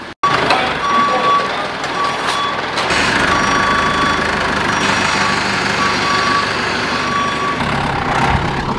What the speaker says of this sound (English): Anybody else use their forklift like a, you know, to move trailers around?